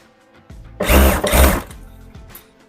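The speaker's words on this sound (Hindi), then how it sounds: "वेलक्रो जहाँ पर लास्ट हो रहा है वहाँ से लॉक करके इसकी सिलाई लगा देंगे" A sewing machine stitches Velcro onto a fabric ottoman cover in two loud, close motor bursts of under a second each, separated by a brief dip, with quieter handling noise before and after.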